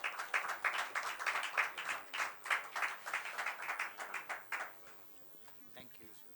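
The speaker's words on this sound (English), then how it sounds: "A big round of applause." Audience clapping at an evening tech-day awards event in a hotel, a burst of rhythmic, fairly close applause that thins out and fades to quiet near the end.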